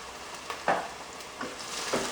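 Onion sizzling in a pan under a steady frying hiss, with a few soft stirring scrapes at intervals.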